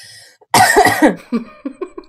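A person coughs hard after exhaling vapour from a vape, one loud burst followed by a string of smaller, fading coughs.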